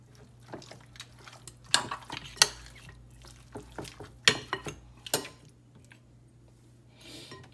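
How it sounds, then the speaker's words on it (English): Goat meat marinating in lime juice and sour orange gets stirred in a pot, with a few soft scraping and clinking knocks of spoon against the pot in a quiet kitchen. "Go ahead and just give it a stir."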